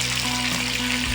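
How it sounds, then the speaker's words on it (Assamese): Onions fry in hot oil in a pan for chicken curry, a loud, close, continuous sizzle and crackle that holds steady throughout with no talking. "তেলখিনি গৰম হোৱাৰ পাছতে পিঁয়াজখিনি ঢালি লৈছোঁ এইখিনি অকণমান দেৰি ভাজি ল'ম"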